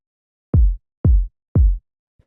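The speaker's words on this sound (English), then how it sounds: "just like a pretty soft, nice, powerful kick" Three evenly spaced, deep, soft kick drum thumps, dry and close, followed by a faint fourth tap.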